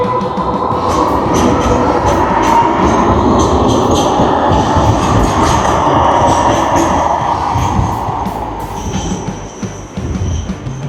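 A train rumbles loudly past at Sydney Central railway station, wheels clattering and squealing with metallic screeches, the roar easing slightly toward the end.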